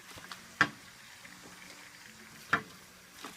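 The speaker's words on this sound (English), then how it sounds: "So my meat always sizzles." Meat frying in Indian spices gives a faint, steady sizzle, broken by a few sharp clicks or pops, heard close with no talking.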